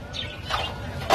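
Small birds chirp in short, faint calls amid the bustle of a Baghdad bird market stocked with caged lovebirds and finches, the calls brief and scattered over low background noise.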